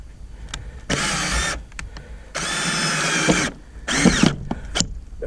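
A power drill bores into wood for a homemade chicken coop door latch. It runs in three sharp, whirring bursts of about a second each, separated by short pauses and small knocks, close and fairly loud.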